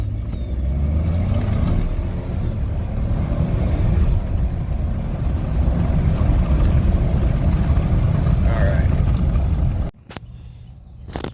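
A 2018 Ford F-150 pickup with the 2.7 engine and an SCT X4 tuner running on 93 octane, accelerating hard from 0 to 60 with a loud, steady engine roar that holds for about ten seconds, then cuts to a quieter interior.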